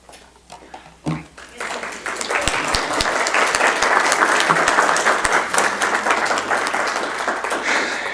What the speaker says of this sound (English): And yes, that's applause.